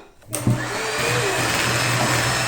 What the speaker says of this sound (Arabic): دابا من بعد ما طربت مزيان الشوكولاط ديالي مع لا كريم